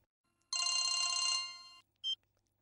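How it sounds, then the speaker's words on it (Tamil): A mobile phone rings with a bright, trilling electronic tone that lasts just over a second and trails off, followed by a short single beep, in an otherwise quiet room. "என்னோட ஃபோன் ரிங் ஆகுது பாரு"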